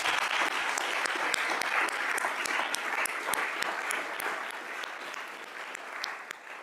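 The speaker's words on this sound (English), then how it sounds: "Can everybody join me in giving all of our wonderful speakers a round of applause?" Sustained crowd applause fills the space at an outdoor National Gun Violence Awareness Day vigil honoring its speakers, a dense, steady clapping that keeps going for several seconds.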